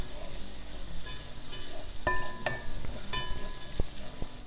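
Tomato frying and being stirred in a pan with ganxet beans and clams, a steady close sizzle broken by several sharp scrapes and clinks of a utensil against the pan.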